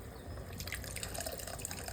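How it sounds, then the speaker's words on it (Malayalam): Tamarind water pours into a simmering fish curry, a steady trickling splash running throughout at close range with no talking. "അതാ രണ്ടാമത്തെ പ്രാവശ്യം പുളി വെള്ളം ഒഴിക്കുകയാണ്"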